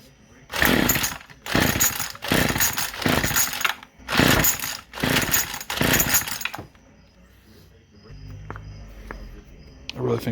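Someone yanks the pull cord of an old, choked weed eater over and over: seven loud, close, rasping rattles in quick succession, then quieter clicks and handling noises as the engine fails to catch.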